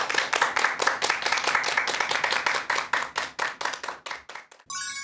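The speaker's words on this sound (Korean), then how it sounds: "큰 박수 부탁드립니다." Audience applause greeting a psychology professor before his lecture, rhythmic and fairly close claps that dominate for about four and a half seconds, then stop abruptly.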